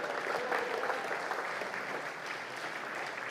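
An audience at a festive evening congress gathering applauds, a dense, steady wash of clapping from many hands throughout, fairly distant and even in level.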